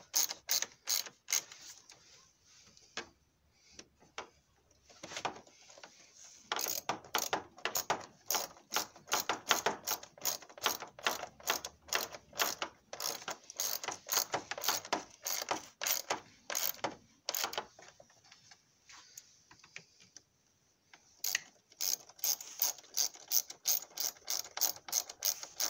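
A socket ratchet tightens four screws on the air filter housing of a 1.4 TDCI Ford Fiesta, giving long runs of rapid, close metallic clicks broken by brief pauses, with no talking.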